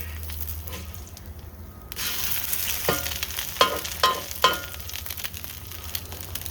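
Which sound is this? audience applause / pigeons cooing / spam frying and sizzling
spam frying and sizzling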